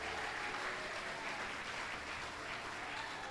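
Applause from a church congregation during a service, a steady dense wash of many hands clapping throughout, moderately loud and continuous with no talk over it.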